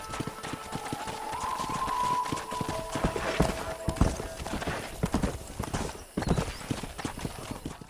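Horse hooves clip-clop in a steady rhythmic gait during riding in the Red Dead Redemption video game, close and fairly loud, with a brief tonal game sound early on.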